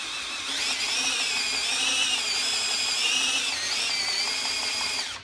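A Kia Forte engine is turned over by hand, giving a steady whirring, whining drone with a slight pitch shift partway through, close and continuous for a few seconds before stopping abruptly.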